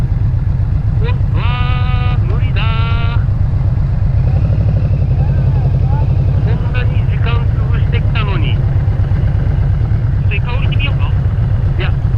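A large motorcycle carrying two riders, with its V-boost mode engaged, gives a steady deep engine rumble as it pulls away. The rumble runs loud and continuous under bursts of conversation.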